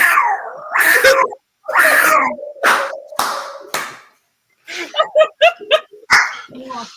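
A person imitates an animal growl in several rough, throaty bursts, some drawn out and some clipped, loud and close, with other voices and hand claps mixed in around them.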